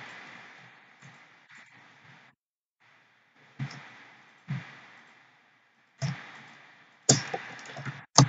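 Typing on a laptop keyboard during a Minecraft Egg Wars game: short bursts of close, clattery keystrokes broken by pauses, growing louder and sharper toward the end, with no voices.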